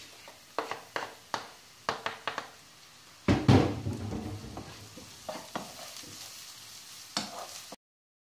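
Onion and carrot sizzle in a pan after a series of sharp knocks and clatters, then a loud hiss as the carrot hits the oil, settling into steady frying.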